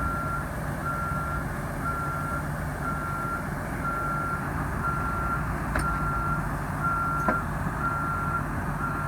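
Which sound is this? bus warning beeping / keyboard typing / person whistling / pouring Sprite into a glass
bus warning beeping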